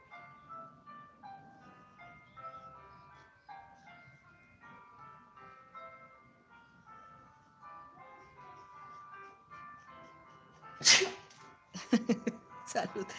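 A person who is painting gold flowers on black fabric sneezes sharply near the end, with a couple of quick follow-up bursts, after a stretch of soft tonal background music.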